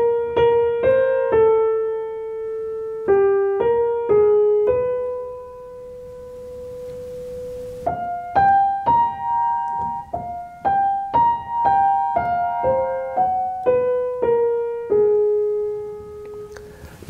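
Melody from Bartók's String Quartet No. 3 played as a single line of clear, pure-toned notes, mostly short and stepwise with one long held tone midway, close and steady without talk.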